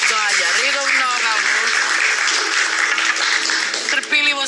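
An audience applauds a contestant on a studio game show, a dense wash of clapping mixed with music.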